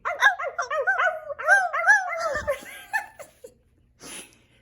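Voices imitate a pack of wolves in the snow, a chorus of wavering howls and yips rising and falling close by, ending with breathy noise.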